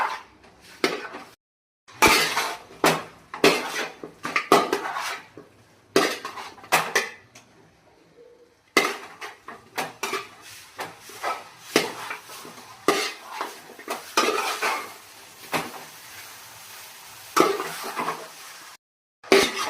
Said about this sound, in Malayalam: ഇനി ഇത് നന്നായി ഇളക്കി മസാലയെല്ലാം ചിക്കനിൽ നന്നായിട്ട് മിക്സ് ആകുന്നത് വരെ ഒന്ന് ഇളക്കി കൊടുക്കുക